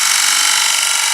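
Close, continuous hiss of a 1/2 inch bowl gouge shearing wood on a spinning plate blank on a wood lathe, steady and loud with no pauses.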